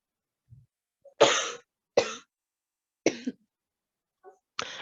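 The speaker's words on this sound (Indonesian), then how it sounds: "Nah, maaf. Jadi batuk-batuk." A person gives a few short, dry coughs with quiet gaps between them, close to the microphone and otherwise in silence, with a little throat clearing mixed in.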